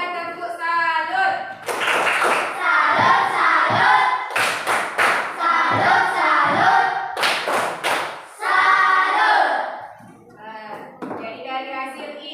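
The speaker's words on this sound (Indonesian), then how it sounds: "Kasih dia tepuk salut" Schoolchildren in a math class perform a rhythmic 'tepuk salut' clapping cheer, loud sharp claps and thumps in patterned bursts mixed with chanting voices, pausing and restarting before trailing off.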